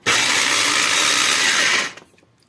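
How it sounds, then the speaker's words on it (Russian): A blender whirs loudly at close range for about two seconds, mixing a hot milk cough remedy in a lidded mug, then spins down abruptly into quiet. "Ну и блендерим."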